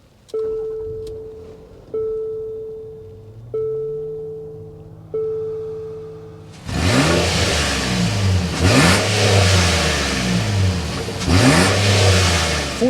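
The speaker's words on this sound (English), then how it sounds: "start it up so you can hear that exhaust note." A 2024 Infiniti QX60's engine is started with several cranking attempts before catching, then the exhaust note rises in repeated revs, loud and close, with no talking.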